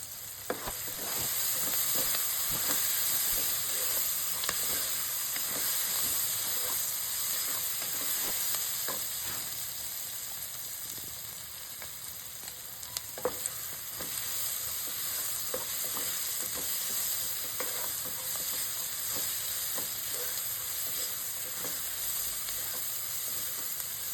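Onions frying with salt and turmeric in a pan for egg fry, a continuous close sizzle and hiss with repeated soft scrapes and clicks of stirring throughout.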